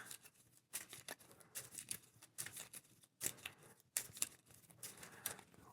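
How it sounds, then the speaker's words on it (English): A deck of playing cards for a gothic deck-building board game being shuffled by hand, close and quiet, in a series of quick riffling bursts separated by brief pauses. "So shuffling."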